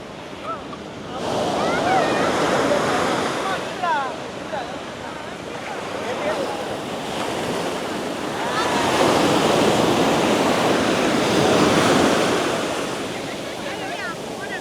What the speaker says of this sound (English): That's the sea, guys. We finally reached the sea.